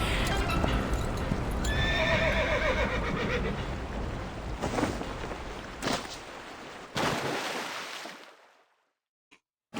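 A horse whinnies loudly up close with clip-clopping hooves in the game Reverse: 1999, set against a dense rumbling action soundscape that cuts off to near silence at the end.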